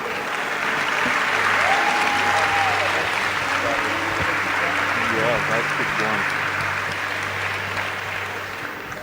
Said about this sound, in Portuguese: Com uma salva de palmas, por favor.